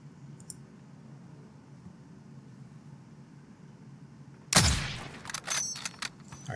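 A single loud sniper rifle gunshot in the video game Warzone cracks out after a stretch of quiet ambient hum, followed by a few sharper echoing impacts and clicks.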